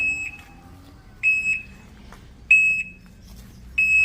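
An electric bike's shrill reversing warning beep repeats every second or so, each a short double chirp, over a low vehicle hum.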